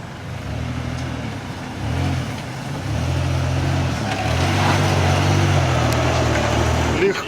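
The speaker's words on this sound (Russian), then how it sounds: "Да, у него звук хороший. Это у него глушак такой." A Toyota Land Cruiser Prado's engine rumbles with a deep, throaty note from its modified exhaust, rising and settling in pulses, loud and close throughout.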